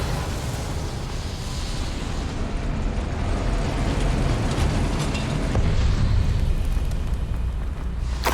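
Spell explosions in the Hogwarts Legacy video game fill a dense, continuous roar of rumbling blasts and crackling debris that holds loud throughout, with sharper bursts near the middle and a heavier low surge toward the end.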